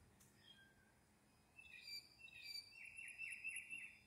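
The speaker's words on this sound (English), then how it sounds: "The birds celebrate." Small birds chirp and twitter outdoors on a spring morning beside a bird bath, soft high calls building into a busier chorus in the second half over a faint, quiet background.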